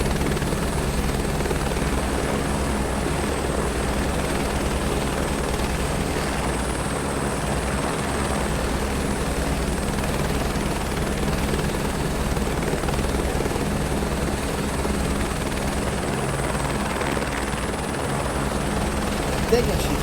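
A helicopter hovers over the ocean in Microsoft Flight Simulator 2024, a steady loud rotor thump and turbine drone running unbroken throughout.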